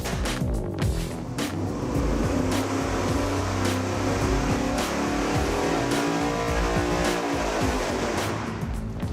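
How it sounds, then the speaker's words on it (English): A V8 engine fitted with 12-inch header collector extensions runs hard on a dyno, a loud continuous blaring exhaust roar with sharp repeated crackles and pulses as it is pulled up through the revs. "Let's go dyno test it with 12-inch extensions."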